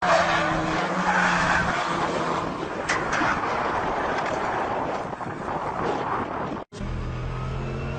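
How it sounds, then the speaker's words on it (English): Race car crashing into tyre barriers after contact with another car, a loud continuous roar of engine and skidding tyres lasting several seconds, with a brief cut near the end. "There's contact between the two of them, and off goes Hjalmar Berman into the tyre barriers"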